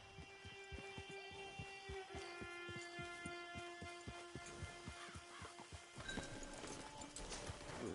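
Horse hooves from Red Dead Redemption clip-clop in a steady, even walking rhythm, close and clear, then stop after about six seconds, leaving low background ambience.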